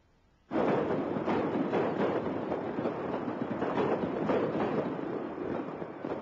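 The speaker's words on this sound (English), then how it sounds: "Today, the sound of holiday fireworks at the Golden Temple invokes memories of another sound 20 years ago" Holiday fireworks at the Golden Temple, a dense, continuous barrage of pops and bangs that starts abruptly and keeps crackling loudly without pause.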